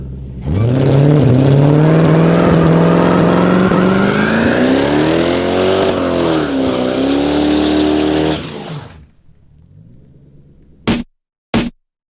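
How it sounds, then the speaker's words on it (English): A Honda Civic project car doing a burnout: a loud, sustained engine roar with rising and falling revs and tyre noise for about eight seconds, cutting off abruptly, followed by two short bursts. "just going to do a burnout."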